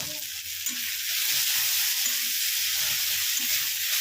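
Onion frying in oil with salt gives off a steady, close hiss while a spoon stirs and scrapes the pan in soft repeated strokes, with no talking.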